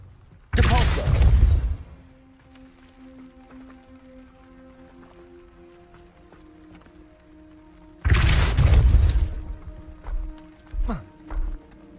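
A Depulso force spell cast in Hogwarts Legacy lands as two loud, roaring bursts some seconds apart, each about a second long, with quieter game ambience and a few softer thuds between and after them.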